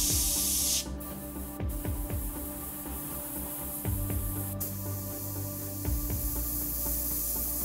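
An airbrush sprays red paint onto a helmet in a steady, close hiss, broken by a few brief pauses and restarts as the trigger is released and pressed again.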